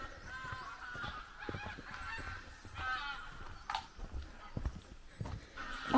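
A flock of ducks calling and honking at a distance in a Scottish forest setting, scattered quacks rising and falling over a quiet outdoor background, faint and far off.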